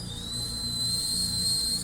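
A man whistles a single long, sustained high note, steady and unbroken, imitating a tinnitus tone over a faint low background hum.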